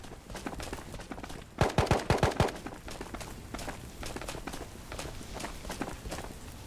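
Loud unsilenced gunfire in the VR shooter Ghosts of Tabor, a quick burst of about five sharp shots fired close by, set amid ongoing footsteps and movement noise in the game.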